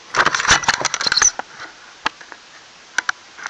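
Keyboard plug pushed into a BeagleBoard-xM board: a close burst of rattling, scraping clicks as the connector is fitted, then a few sharp isolated clicks in near silence.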